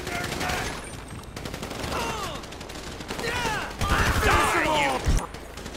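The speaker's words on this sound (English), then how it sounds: "So I guess we're shooting our way out of here!" Gunfire in a Grand Theft Auto V shootout with mercenaries: loud, rapid automatic bursts and overlapping shots, with whistling ricochets and shouting voices mixed in.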